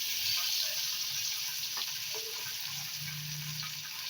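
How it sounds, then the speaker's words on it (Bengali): Pabda fish rubbed with salt and turmeric fry in hot oil with a soft continuous sizzle and occasional faint clinks nearby. "এবার এই তেলের মধ্যে মাছগুলোকে ভেজে নেব।"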